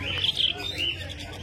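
Budgerigars chirp and tweet in quick, high bursts close by at the Garia bird market in Kolkata, with a faint low hum underneath.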